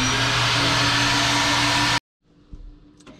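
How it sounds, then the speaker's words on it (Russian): Car wash vacuum cleaner running loud and steady while cleaning a car, a constant motor whine that cuts off abruptly, followed by faint clatter and handling noises. "Это пылесос."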